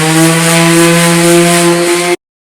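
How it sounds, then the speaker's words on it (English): A plywood utensil box's inside edge being sanded produces a steady, close, loud abrasive buzz with strong tonal hum, running continuously for about two seconds before cutting off abruptly. "I'm sanding on the inside edge."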